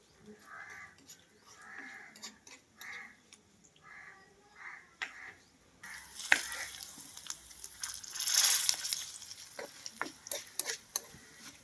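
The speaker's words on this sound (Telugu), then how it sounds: "తాలింపు వేగిపోయిందండి" Spices for a chutney tempering sizzle and crackle in hot oil, with stirring scrapes and a louder burst of frying midway through.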